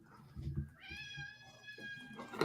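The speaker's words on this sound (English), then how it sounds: "And we got cats running around." A house cat gives a single drawn-out, rising meow in a quiet room, fairly faint, with low murmuring and rustling around it.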